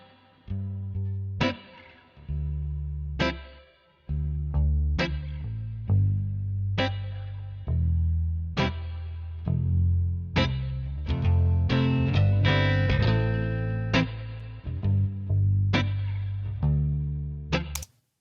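Electric guitar played through an amp with its built-in reverb and miked from the amp: loud, distorted strummed chords and single hits, each ringing out with a reverberant tail, in an uneven rhythm with no voices.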